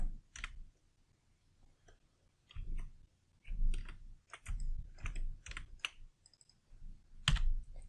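Clicking while working in CAD software: sparse, light clicks and taps, some in quick pairs, faint and close, with no talking.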